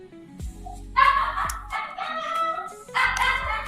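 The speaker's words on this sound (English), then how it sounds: "Is that your dog?" A pet dog at home lets out three drawn-out, voice-like howling calls in quick succession, loud and close, with brief pauses between them and a low rumble underneath.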